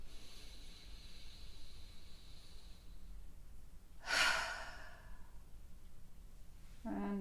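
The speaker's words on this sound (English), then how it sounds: "take a deep inhale through your nose and exhale through your mouth" A deep breath drawn in through the nose and let out through the mouth: a soft, drawn-out airy hiss, then a stronger gusty exhale, close and quiet with no talking.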